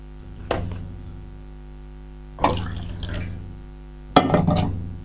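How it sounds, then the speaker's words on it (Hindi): Water is poured into a container and then sipped, heard as three separate bursts of liquid sound about two seconds apart, close and moderately loud over a steady low hum, with no talking. "एक बार पानी पी लिया जाए"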